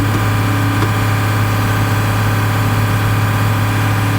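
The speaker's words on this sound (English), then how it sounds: "Alright, now I'm gonna rev it right up. PTO speed." A John Deere 4755 tractor engine runs near and loud with a steady, unbroken drone, holding an even pitch throughout rather than climbing.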